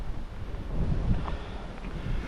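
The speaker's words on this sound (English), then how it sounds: "Getting really windy now" Wind gusting across an exposed hillside on a climb toward an Iron Age hill fort, a steady low rumble of buffeting against the microphone that swells slightly midway and holds throughout with no voices.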